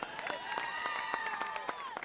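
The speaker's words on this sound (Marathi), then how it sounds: "एकदा संजू मालकांसाठी सगळ्यांनी टाळ्या वाजवा" A crowd applauds at a cricket prize ceremony for a premier league, with steady close clapping and a loudspeaker voice with a ringing echo sounding over it.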